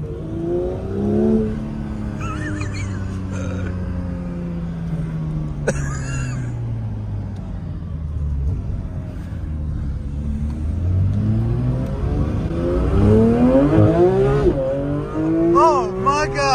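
A Porsche 911 GT3 (992) engine climbs to a high-pitched scream near 9,000 RPM, easing off and rising again through gear changes, loud and close.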